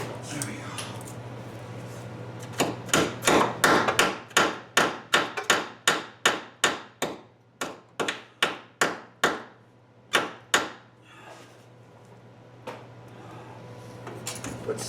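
A hammer strikes a broken, rusted bolt in a very difficult spot, about twenty sharp metallic blows in a steady rhythm that slows and spaces out toward the end, over a constant low hum.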